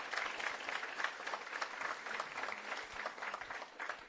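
An audience applauds the authors of a book on environmental tax incentives for electromobility at its presentation event: a few seconds of moderate, even clapping from a small crowd, with no pause in it.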